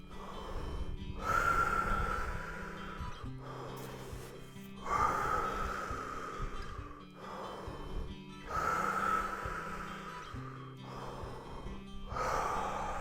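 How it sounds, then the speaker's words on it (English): Deep, rhythmic breathwork breathing: full inhales and forceful exhales repeat in a steady cycle roughly every three to four seconds, close and fairly loud, with no talking. "Keep it going. Last 10 breaths of the first round."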